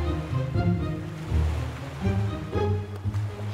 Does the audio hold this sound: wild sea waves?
yes